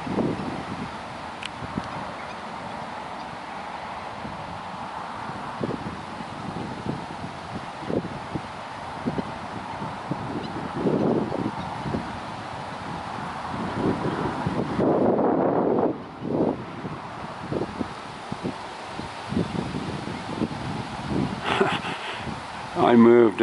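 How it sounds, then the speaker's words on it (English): Steady wind buffets the microphone outdoors at a swamp for the whole stretch, with low rumbling gusts and rustling, while a person speaks now and then underneath. "It's pretty windy."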